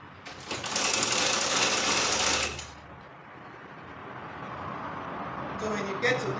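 A sewing machine hems the round sleeve of a triangular bubu top, its needle running in a fast steady burst for about two seconds, then going quieter and continuing with a low mechanical hum.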